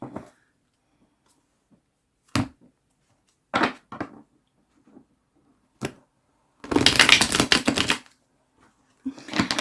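A Wild Unknown tarot deck being handled and shuffled on its own: a few sharp, separate card slaps, then a dense, papery riffle lasting over a second, and a final burst of card noise near the end.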